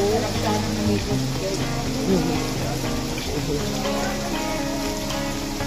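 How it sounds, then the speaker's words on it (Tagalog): Steady, dense rain hisses continuously on surfaces nearby, with a low hum and faint voices underneath. "Lakas ng ulan, no?"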